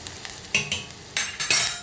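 Dal and turmeric roasting in hot oil in a pan, with a hiss of sizzling broken by a few sharp clinks of a spoon against the metal, close and alone without talk.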